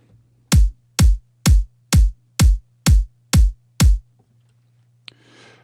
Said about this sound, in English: I've got a basic kick drum loaded up here.